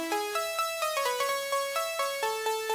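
Plucky synth lead built with stock FL Studio plugins, playing a bright stepping melody of short, evenly spaced notes with quick decay, loud and alone without any voice.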